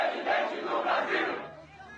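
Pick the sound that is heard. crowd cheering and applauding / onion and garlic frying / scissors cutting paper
crowd cheering and applauding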